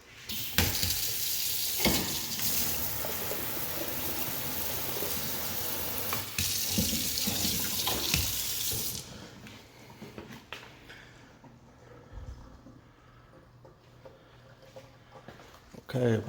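Water streams from a hand sprayer into a large 36-inch wide farm sink, a steady broadband rush for about nine seconds before cutting off, leaving a quieter room with faint handling noises.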